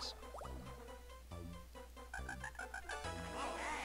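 Cartoon frogs croak in the WarioWare Inc. video game, a series of short, deep, evenly spaced croaks over a steady electronic game backing, with no talk.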